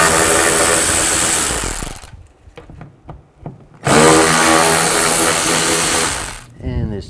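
A power tool loosens T20 screws during radiator work on a 2007-16 GMC Acadia, running in two loud, steady bursts of about two seconds each, separated by a quieter stretch with clicks and handling noise.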